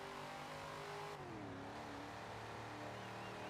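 A car engine in a track car revs up toward about 6,000 RPM, a loud close roar whose pitch climbs and then holds at a strained high whine under acceleration.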